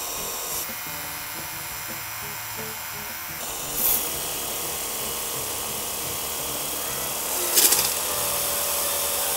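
A Makita MHW180D and a Boo Max cordless pressure washer run at the same time, giving a steady, loud motor whine with a shift partway through and brief spray bursts later.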